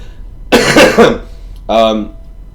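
A single harsh cough up close from a speaker recording a podcast, followed a moment later by a short voiced throat-clearing sound, with quiet room tone around them.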